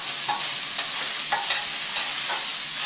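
Sautéed zucchini with basil and mint tossed in a hot pan, a steady sizzle under repeated soft scraping and clattering stirs at close range.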